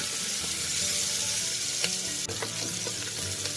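Close, continuous sizzle of onions browning in hot oil for a chicken curry, with intermittent stirring and a few light clinks of a utensil against the pan.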